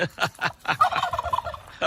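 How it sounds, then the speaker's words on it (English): A loud wild turkey gobble rolls out in rapid bursts from a long-bearded male, close and clear, followed by a shorter gobble at the very end. "A big, giant gobble there."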